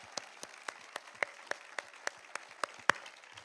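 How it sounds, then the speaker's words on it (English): A small audience claps at an awards show, with sparse, evenly spaced individual claps that sound faint and slightly distant, with no talk over them. "So I think that we should give them all a round of applause for really putting themselves out there."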